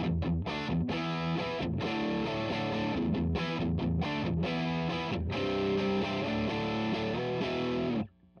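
An electric guitar through a Fulltone Mas Malo distortion pedal, on the bridge pickup, plays heavy, sustained distorted chords and riffs continuously and loudly, cutting off at the end.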